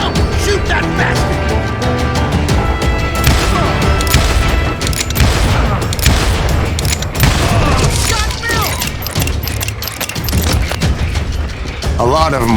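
Gunfire in the Call of Juarez Gunslinger Western shooter: dense, continuous shots and clanking mechanisms under loud music and voices, filling the whole stretch.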